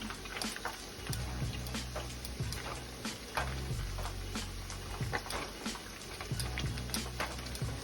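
Guajillo chiles fry in a pan with a steady, dense sizzle. Soft scraping stirs and taps recur at intervals over the continuous crackle.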